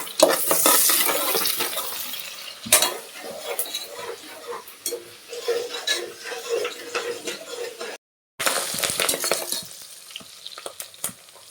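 Curry leaves are stirred into onions frying in a pan for boti curry, producing a loud, close sizzle with clattering spoon strokes against the pan and a brief silent gap.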